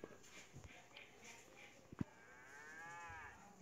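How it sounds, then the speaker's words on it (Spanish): A cow moos in Minecraft, giving one short lowing call near the middle that sits over quiet game background noise and faint clicks. "Este es una vaca."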